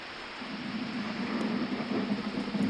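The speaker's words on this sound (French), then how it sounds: "les gouttes d'eau, si minuscules pour nous, ont pris de la vitesse et ont l'effet d'une bombe lorsqu'elles atteignent les fragiles pétales" Heavy rain falling on flowers and delicate petals, a dense continuous patter and roar that swells slightly toward the end, close and loud with no voices.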